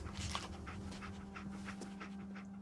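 Dogmeat, the dog companion in Fallout 4, pants in quick, rhythmic breaths, fairly soft and close, with no talking over it.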